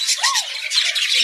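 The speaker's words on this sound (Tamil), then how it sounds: "இதான் பார்த்தீங்கன்னா லவ் பேர்ட்ஸ்னு சொல்லுவார்கள்" Shrill, rapid squawks and chatter from lovebirds, close and continuous for a brief moment.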